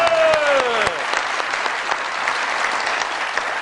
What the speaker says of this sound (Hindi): बहुत सारी तालियों में वेलकम कीजिएगा जनाब अमजद साबरी साहब जी।